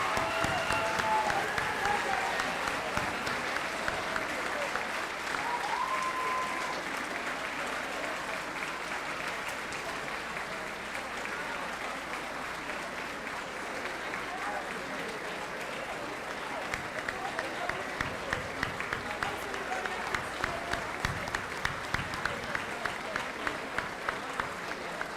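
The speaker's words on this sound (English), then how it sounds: "If everybody would like to stand, we could do one more round of applause." An audience at an 8th grade awards and moving-up ceremony rises for a long round of applause, with voices mixed in. The dense clapping thins toward the end into distinct, individual claps.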